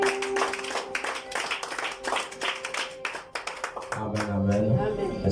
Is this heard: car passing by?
no